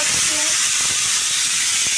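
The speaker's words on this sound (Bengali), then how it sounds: "এদিকে ডিম সিদ্ধ হচ্ছে" Eggs boiling in a pot on a home stove give a loud, continuous steamy hiss and bubbling rush close by, with faint low knocks underneath.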